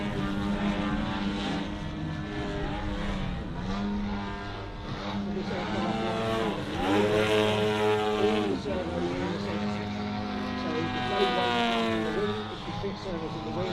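A lightly loaded aerobatic model aeroplane flies at the Weston Park Model Air Show, its propeller engine whining steadily and rising and falling in pitch as it manoeuvres. Voices talk over it.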